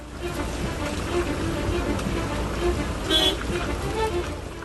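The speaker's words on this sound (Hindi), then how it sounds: "तस्वीरें चिखली तालुका से गुजरने वाली कावेरी नदी की हैं, जो खतरे के निशान से 6 फीट ऊपर बह रही है" A broad, steady rushing roar of the flooded Kaveri river running six feet above the danger mark in heavy rain, continuous and dense throughout with no clear voices.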